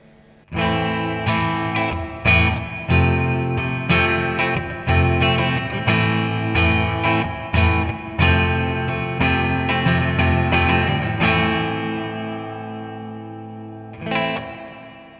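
Electric guitar chords and picked notes played through a Joyo Ironman JF-317 Space Verb reverb pedal set to a darker room tone, with tails ringing out after the playing stops, then a final strum.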